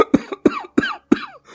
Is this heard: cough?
yes